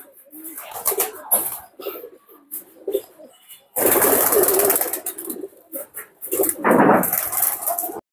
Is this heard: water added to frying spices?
no